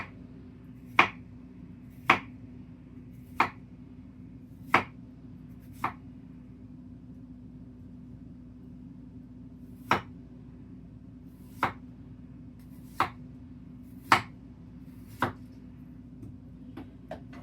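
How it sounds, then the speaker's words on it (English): A knife slices a pear thin on a cutting board, giving sharp, isolated chops spaced about a second apart in two runs with a pause between, over a low steady background hum. "I'm just going to slice this pear thin"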